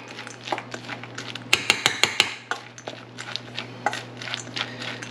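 A spoon clinks and scrapes in a bowl as pumpkin seeds are tossed with spices, with a quick burst of four sharp taps in the middle among lighter stirring sounds, close by.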